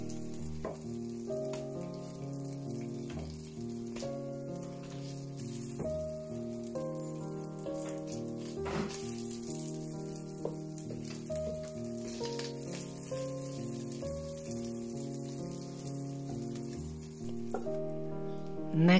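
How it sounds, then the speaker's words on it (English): Butter oil heated to 160 degrees Celsius with garlic and thyme gives off a steady, soft sizzle and crackle, partly masked by continuous background music. "I infuse the butter oil with garlic and thyme"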